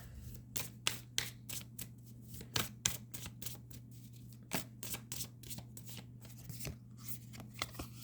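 A deck of astrology cards being shuffled by hand, a quick run of crisp riffles and flicks that come in uneven bursts, close and fairly quiet, with a steady low hum underneath and nobody speaking.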